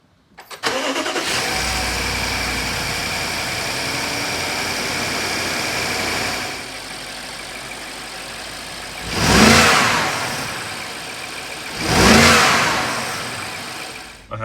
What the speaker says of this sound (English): I'm gonna start the car, make sure there's no codes or anything like that.